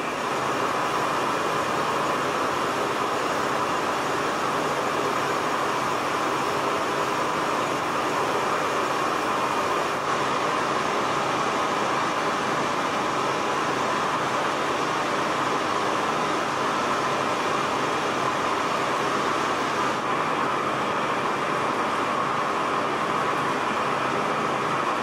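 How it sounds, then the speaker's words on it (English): Metal lathe parallel turning a flywheel for a four-stroke engine build, a steady continuous whir and hiss of the spindle and cutting at constant loudness throughout. "I'm going to do some parallel turning now"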